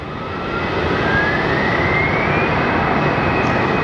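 Continental airliner at Phoenix Sky Harbor Airport, a loud, continuous jet engine roar building over the first second then holding steady, with a faint rising whine.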